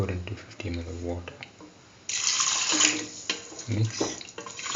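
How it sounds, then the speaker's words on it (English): Water poured into a split chickpea and yam mixture in a pot, a sudden splashing gush midway that runs for about a second before tapering off, with a voice speaking before and after it. "Pour into 50 ml of water."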